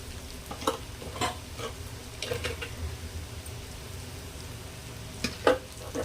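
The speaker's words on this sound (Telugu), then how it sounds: "ఉల్లిపాయలు బాగా వేగాక కాకరకాయలు వే వేసుకోవాలండి" Sliced bitter gourd and onions fry in a pan with a steady, close sizzle, broken by occasional soft scrapes and clicks as a spoon stirs them.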